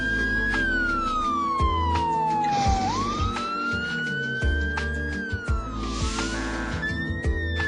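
Police car siren wailing and sweeping up and down in pitch as the vehicle approaches an intersection, loud and continuous over a low traffic rumble, with a brief horn-like blare near the end.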